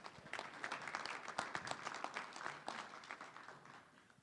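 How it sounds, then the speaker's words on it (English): An audience at an annual meeting claps in a short, faint round of applause that fades out toward the end. "So you should give yourselves another round of applause because it's so great."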